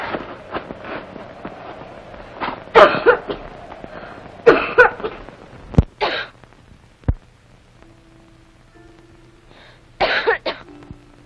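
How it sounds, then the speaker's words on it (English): Repeated coughing from a girl in a dormitory at night, coming in short bursts of several dry coughs with pauses between them, close and fairly loud, with no talk over it. "It's only the cough."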